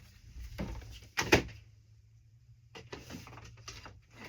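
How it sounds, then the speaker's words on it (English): A wooden flashcard drawer holding antique and vintage ephemera cards slides and knocks shut, a couple of soft scraping bumps and a sharper clack, followed by faint rustling, fairly quiet and close. "just put that flashcard in the flashcard drawer"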